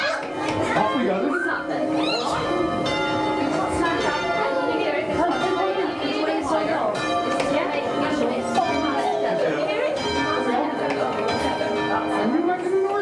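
Church bells being rung by hand at a school bell-ringing session, sounding as a dense continuous peal of overlapping tones throughout, with children's chatter and voices mixed underneath.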